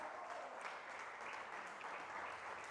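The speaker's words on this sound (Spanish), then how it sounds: "Dele ese aplauso al Señor" A church congregation clapping steadily, dense and even applause throughout, moderately distant, no speech over it.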